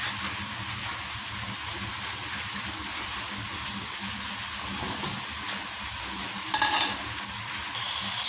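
Squash goes into a pot of soup with sizzling and bubbling on the heat, a continuous close frying hiss with a brief clatter near the end.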